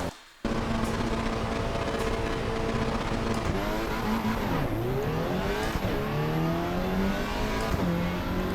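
A racing car engine in the video game Assetto Corsa EVO roars steadily, revving up and down through gear changes with tire squeals, loud and continuous with no talking.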